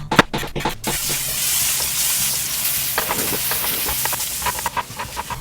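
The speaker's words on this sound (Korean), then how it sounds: "애호박, 당근, 표고버섯등 기름에 볶아줄게요." Zucchini, carrot and shiitake mushrooms stir-fry in hot oil, a steady close sizzle and hiss with scattered crackles and spatula scrapes, opening with a few sharp clatters.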